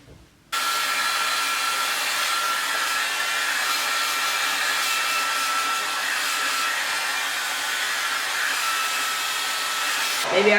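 Steady, loud hair dryer blowing on a wig for about ten seconds, starting abruptly after a brief quiet moment and running continuously with no talking.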